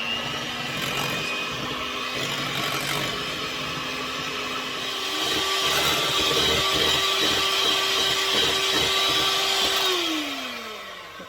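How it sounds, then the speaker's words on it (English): An electric hand mixer whisks a ginger and lime cheesecake mixture, a loud steady motor whine that rises in pitch partway through and holds, with the beaters churning and rattling in the bowl before the motor winds down. "just got to whisk that till it gets solid"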